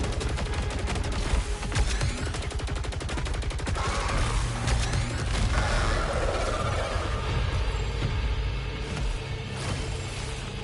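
Rapid-fire homing shots from a power weapon in the video game Saros, a dense stream of sharp, closely spaced bursts blending with mechanical clatter and swelling explosive rumble, loud and continuous throughout.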